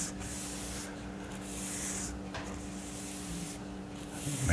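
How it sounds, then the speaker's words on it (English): Soft, repeated swishing strokes of a paintbrush lightly going over a taped line, a quiet rhythmic brushing with gentle pauses between passes and no talk. "Now you're going to take your paintbrush, kind of lightly go over that guy."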